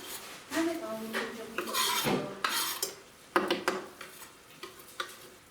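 Browned mince and onion for a cottage pie being stirred in a pan, with repeated close scrapes and clinks of a utensil against metal over a light sizzle, in irregular bursts.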